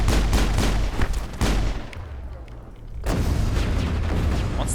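Pistol fire in the Mass Effect video game: a dense run of loud, rapid shots, a short lull with scattered quieter pops, then sustained shooting resumes, with no talk over it.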